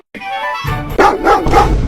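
A household dog lets out a few loud, close barks in quick succession, after a brief whine-like onset.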